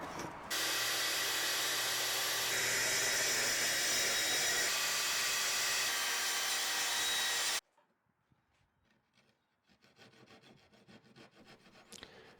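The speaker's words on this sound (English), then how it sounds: "I'm using a hole saw to make the radiuses for the corners of the sink cutout" A hole saw and track saw cut through a cabinet sub counter for a sink cutout and plumbing holes, giving a loud, steady, abrasive whine for several seconds that stops abruptly, followed by quieter scattered handling noises.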